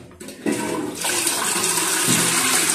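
Newly replaced toilet bowl in a turnover bathroom being flushed: a click, then a loud rushing swirl of water that builds and stays strong to the end, close up, with no talk.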